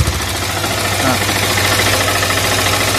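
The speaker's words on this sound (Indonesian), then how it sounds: "bagian piston ini parah nih suaranya nih" A worn Yamaha Vixion motorcycle engine idles with piston knocking, a steady close mechanical chug with a rough, rattly texture running continuously.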